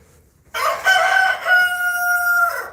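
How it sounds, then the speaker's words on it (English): A rooster on a farm with goats gives one loud, close cock-a-doodle-doo crow that rises and holds a long, strained final note. "And we have roosters, as you can hear."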